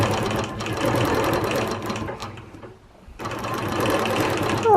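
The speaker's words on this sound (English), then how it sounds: "for those of you with a Bernina quilting machine, I am quilting right now in the BSR1 mode" A Bernina Q16 quilting machine stitching scallops on a table runner in BSR1 stitch-regulator mode, a rapid steady mechanical whir that briefly slows and quiets before resuming at full speed, close and loud.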